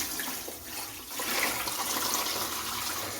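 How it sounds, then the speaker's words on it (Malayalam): Clear water being poured off settled tapioca starch, a soft continuous trickling and splashing that is fairly faint and close by, with no talk over it. "ഈ വെള്ളം നമുക്ക് ഊറ്റിക്കളയണം."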